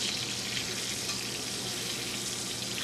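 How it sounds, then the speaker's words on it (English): Dayboat scallops searing in a hot pan give a steady, close, dense sizzle that holds evenly throughout with no voices. "As these scallops are searing"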